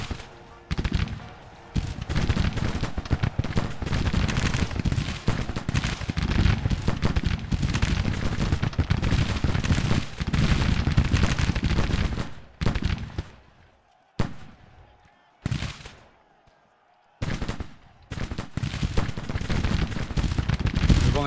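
Massed musket volleys from a Civil War battle in the Grand Tactician strategy game, dense rolling gunfire crackling almost continuously, with a few short lulls before the shooting bursts back in loudly.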